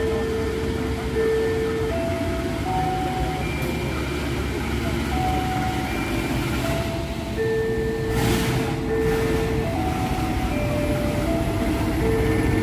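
The Sri Tanjung passenger train rolls into Kertosono station with a continuous low rumble of wheels and carriages, and tonal station sounds ring out over it, close and steady.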